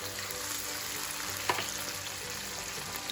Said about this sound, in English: You're going to let this saute in the pan for a few minutes.